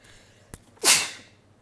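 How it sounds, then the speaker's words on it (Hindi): One person gives a single close sneeze, a short intake followed by a sharp hissing burst that fades within half a second, with no talk over it. "सो आपको पता है कि हम छींक को रोकना नहीं होता है, इट्स डेंजरस"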